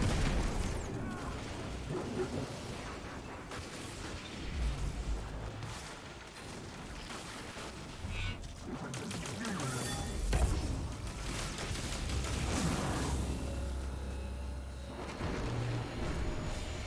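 Vents on an enemy rig are blown up in Destiny 2, a dense spread of explosive booms, bursts and mechanical clatter layered over busy combat noise.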